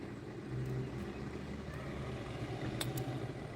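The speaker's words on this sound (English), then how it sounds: "why is there two buses driving past again? They're the same bus. They just keep driving past." Buses pass by outside, a low, steady engine rumble and road hiss that carries on through the moment, heard at a distance from indoors, with a couple of faint clicks near the end.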